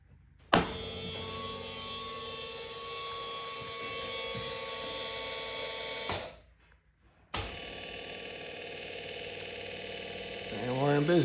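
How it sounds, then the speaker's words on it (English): Electric actuator on a Vibe Yellowfin 100 fishing kayak raising and lowering a trolling motor, a steady motorized whir running for about six seconds, a brief pause, then whirring again in the opposite direction, close and moderately loud. "if I want to raise and lower the motor, I can just flip the switch up or down"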